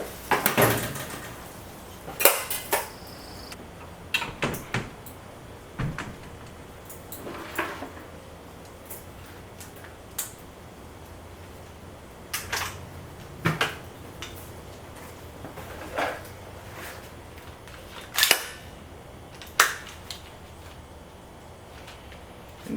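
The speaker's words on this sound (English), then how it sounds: "hear the smoothness of that nickel boron bolt carrier group" A nickel boron bolt carrier group cycles in a rifle, producing a series of sharp metallic clacks and slides spaced across a quiet room, some louder than others, with soft handling noises between.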